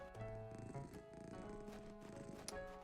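A cat purrs in a video game, a soft continuous rumbling purr under quiet background music and tones, steady for a few seconds.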